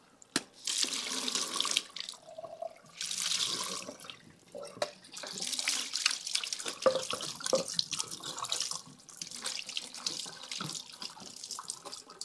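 Water streams steadily from a kitchen faucet as beans are rinsed in a strainer, a continuous splashing rush with brief pauses and shifts where the flow is moved around, close and fairly loud with no talk.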